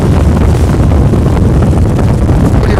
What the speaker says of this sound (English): if the wind's hitting you on your